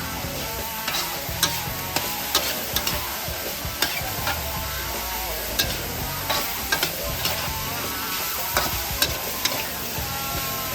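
Chilies stir-fried in a wok with minced pork and salted fish, a steady loud sizzle broken by repeated clacks and scrapes of the spatula tossing the mixture, with no voices.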